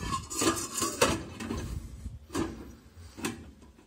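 A dirty pressure cooker pot, with slightly burnt polenta, is handled in a kitchen, giving a few scattered metallic clanks and knocks of varying loudness, close by and without talk.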